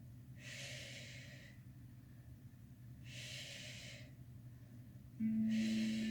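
Rhythmic yoga breathing during a forearm and knee core flow, with three separate breathy whooshes of inhale and exhale spaced a couple of seconds apart, close to the microphone and without speech.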